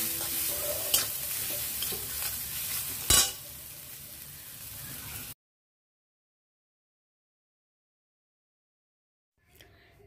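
Spices fry and are stirred in a pan for Bengali fried pitha, with a soft sizzle and a few sharp spatula knocks, then the sound cuts to silence for several seconds before a faint return at the end.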